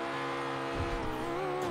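A car in a driving video game drives against traffic on a city street, its engine droning steadily and close, with a brief rumbling swell partway through.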